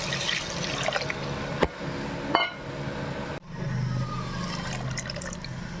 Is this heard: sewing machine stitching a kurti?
no